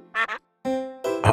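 Cartoon duck Pato from Pocoyo gives three bright, nasal quacks, the first a quick double burst, then a longer drawn-out one and a final sharp squawk, close and loud.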